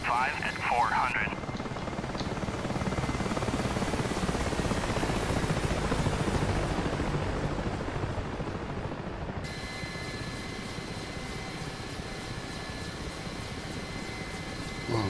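A helicopter flies in a DCS combat simulation set over Normandy, its steady rotor and turbine drone filling the mix continuously, with a brief radio-like burst at the start and a tonal shift partway through.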